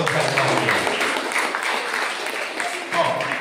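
A congregation at a church gathering clapping softly, a dense low patter of many hands blended with voices.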